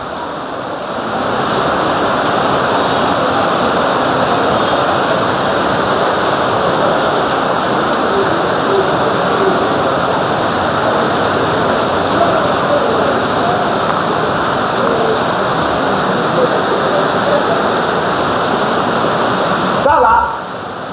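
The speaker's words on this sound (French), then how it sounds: "Ça là, ce n'est pas l'eau de robinet. C'est l'eau qui a piqué le sous-sol directement." Water gushing straight up from underground, a loud, close, continuous roaring rush like a waterfall that holds steady for the whole stretch.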